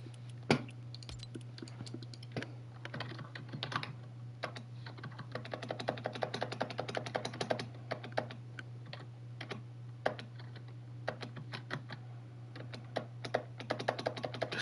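Rapid computer keyboard typing during a ranked Fortnite session, with dense irregular key clicks close to the mic over a steady low hum, with no talk.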